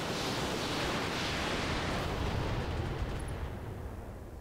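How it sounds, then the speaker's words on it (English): Salvo of long-range missiles fired from a mech in the RogueTech mod for BattleTech, a dense, loud roaring wash of launches and rumble that holds steady and then begins to fade. "We're going to go after him with both LRMs, and we're going to go for a headshot."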